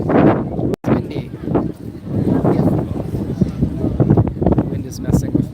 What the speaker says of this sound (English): Wind is messing with my stabilizer.